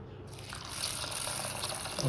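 Water gushes steadily into a vessel holding soaking whole urad dal and fenugreek seeds, a close, bright splashing pour with no voices.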